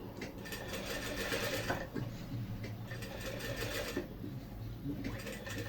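A sewing machine stitches fabric for a cushion, a fast, close mechanical rattle that runs continuously with brief pauses and slight speed changes, a faint voice now and then.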